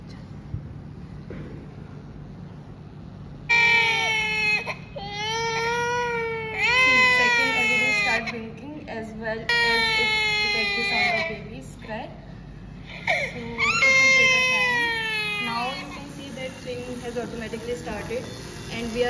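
An infant cries in repeated wailing bursts over a steady mechanical hum, with short pauses between the cries.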